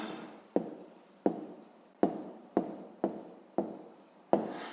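A pen writes out a maths answer on paper, seven sharp taps of the tip at uneven intervals, each followed by a short scratchy stroke, close and quiet with no talking.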